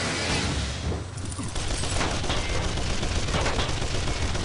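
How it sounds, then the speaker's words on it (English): Heavy, continuous gunfire in the video game Shoot Many Robots, rapid machine-gun bursts blending into a dense roar of shots throughout, loud and unbroken with no talk over it. "Bullets are just going everywhere"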